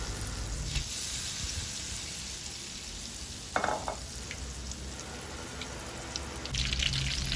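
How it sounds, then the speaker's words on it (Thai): Khao mao, flattened rice, frying in hot oil for a traditional Thai snack: a steady close sizzle and bubbling with occasional soft stirring clinks, no voices. "ตอนนี้เราก็ทอดข้าวเม่าเราก็ล็อตสุดท้ายแล้วค่ะ"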